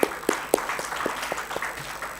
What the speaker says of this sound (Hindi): तालियां उनके लिए भी होनी चाहिए